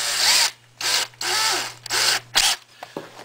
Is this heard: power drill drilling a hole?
yes